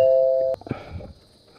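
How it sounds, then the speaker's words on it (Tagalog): An electronic doorbell chimes with a sustained two-tone ring at a house entrance, then cuts off into faint rustling and a soft knock-like thump. "Doorbell tayo."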